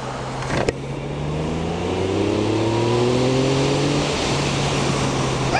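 A Yamaha XSR 900 three-cylinder motorcycle engine idles and then revs, its pitch climbing steadily over several seconds before it eases back, after a sharp click near the start.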